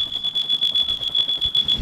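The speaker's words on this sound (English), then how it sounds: "set off the smoke alarm" A smoke alarm sounds continuously, a shrill high-pitched tone pulsing in rapid regular beeps, fairly loud and alone.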